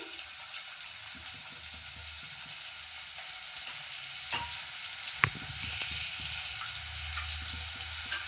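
Sliced onion and a green chilli fry in hot oil, giving a steady, dense sizzle that runs throughout, close and continuous, with a brief sharp clink of a utensil partway through.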